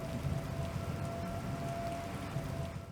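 Steady rain patters down during a tornado-warned storm, heard from under an awning: a dense, even wash of drops that holds at a constant level throughout, with a faint steady tone beneath it and no voices.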